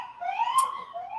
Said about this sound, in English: Cop outside your house right now that has a siren going off